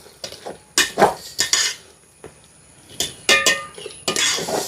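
A metal spoon stirs and mixes kappa in a pot while cooking in a village kitchen, giving close, irregular scraping clinks and knocks against the pot in short bursts with brief pauses, and no voices.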